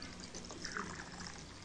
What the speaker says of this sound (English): I just happen to have a little wine to pour in that.